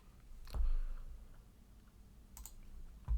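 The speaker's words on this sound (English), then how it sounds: "So I'm going to go ahead and click run." A computer mouse gives a few faint, crisp clicks at a desk in a quiet room, with isolated taps spread out over a few seconds and a soft low thump at the end.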